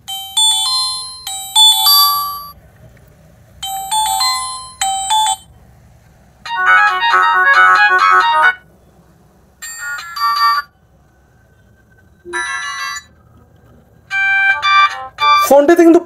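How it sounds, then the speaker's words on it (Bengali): A Symphony L137 button phone plays through its built-in ringtones one after another: short, bright electronic melodies and beeping tunes separated by brief quiet gaps, loud and close. "ফোনটিতে কিন্তু 5টা রিংটোন আমরা দেখতে পেলাম।"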